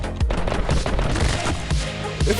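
Dual Uzis fire in My Friend Pedro, a video game, in fast loud bursts of overlapping shots with short pauses between volleys, close and punchy.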